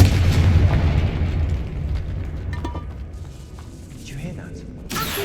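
Confringo fire spell explosion in Hogwarts Legacy, a heavy booming blast at the start that rumbles and fades over several seconds, with another sharp burst right at the end.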